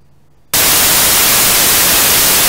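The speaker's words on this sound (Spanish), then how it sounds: "Entonces tengo mi ruido blanco aquí." Loud white noise generated in Audacity at 0.8 amplitude switches on abruptly after half a second of near silence, then holds as a harsh, constant broadband hiss.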